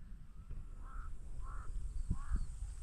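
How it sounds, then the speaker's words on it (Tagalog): Crows cawing over a papaya grove, three distinct harsh caws spaced about half a second apart, moderately distant against faint background noise and low thumps. "Ayan po ang kapal po ng uwak ngayon."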